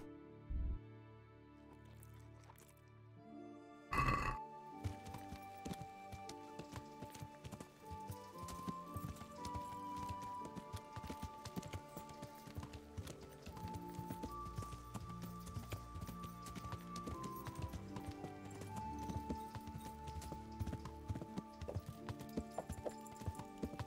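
Steady clip-clop of horse hooves trotting along in the video game Kingdom Come: Deliverance, with a brief whinny and game-like background music and effects layered throughout.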